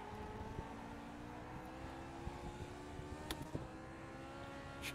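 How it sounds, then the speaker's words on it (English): A Lotus 49 race car in iRacing at Oulton Park, its engine droning at a steady high pitch with faint harmonic tones and occasional brief clicks, quiet and continuous. "Can't really decide if I want to shift up to fourth there or bounce off the rev limiter in third"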